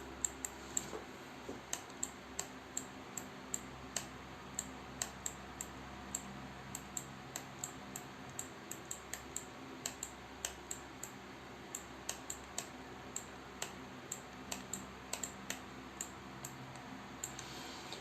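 A pen writes on a surface in a quiet room, making a steady series of small, sharp taps and ticks at an irregular pace, faint and close.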